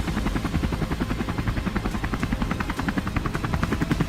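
A helicopter's engine and rotor run steadily, with a rapid, even thumping beat of the blades over a continuous engine roar, loud and close, without speech.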